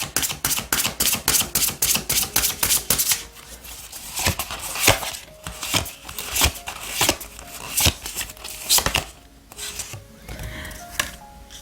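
Oracle cards shuffled by hand during a tarot reading: a rapid rhythmic run of crisp riffling strokes, then slower irregular slides and taps of the cards, close and clear.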